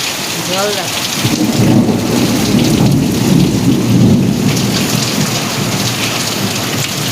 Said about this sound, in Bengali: বৃষ্টি নেমে গেছে বৃষ্টি নেমে গেছে